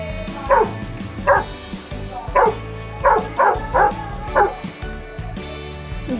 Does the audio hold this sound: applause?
no